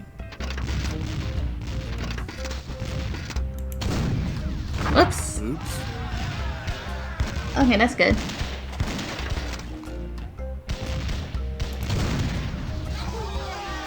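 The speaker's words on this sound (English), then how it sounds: "It's very hard to control this cannon" A cannon fires repeatedly in The Curse of Monkey Island, booming shots and crashes scattered among game effects, with someone talking over them.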